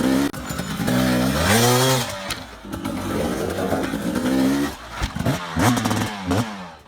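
An enduro motorcycle revs hard, engine pitch surging and dropping as it climbs a rock face, loud and close, with brief cuts and renewed blips of throttle near the end.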